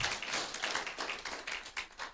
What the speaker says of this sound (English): A good clap would work